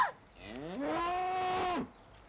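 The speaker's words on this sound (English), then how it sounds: "Only a cow." A single cow moos once in the countryside, a drawn-out, close and clear low call that rises, holds steady, then breaks off, with quiet surroundings and no talking.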